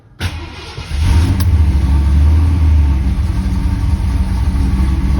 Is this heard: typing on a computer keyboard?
no